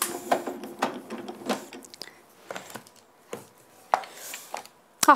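A Grand Calibur hand-cranked die-cutting machine presses craft dies and plates through with a series of irregular mechanical clicks, clunks and grinding creaks, close and moderately loud with pauses between them, and no talking.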